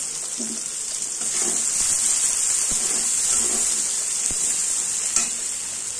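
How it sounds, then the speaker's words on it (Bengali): Finely chopped onions fry in hot oil in a pan, giving a loud, even sizzle up close, punctuated by sharp clicks from a stirring spoon, with no talking. "পেঁয়াজগুলোকে এখন লাল লাল করে ভাজতে হবে।"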